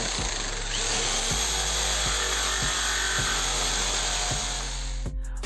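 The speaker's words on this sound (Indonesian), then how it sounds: "sekarang kita coba untuk memotong pipa PVC seperti ini" A cordless drill fitted with a Bull BLSP01-005 jigsaw adapter saws through PVC pipe with a steady, loud buzzing drone and a regular rapid knocking of the blade stroke, running alone and cutting off abruptly near the end.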